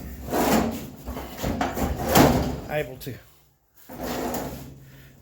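A wooden drawer on a tool chest under restoration slides in and out with rubbing, scraping wood sounds and a soft knock as it closes, while someone talks over it.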